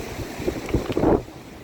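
Sea waves breaking at high tide on the Velas shore in Ratnagiri, a short rush of surf with wind noise, swelling near the end and then easing off.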